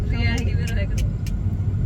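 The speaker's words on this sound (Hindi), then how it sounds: "गाड़ी चला रहा हूँ।" A car engine hums steadily while driving, a continuous low rumble with road noise beneath a voice talking over it.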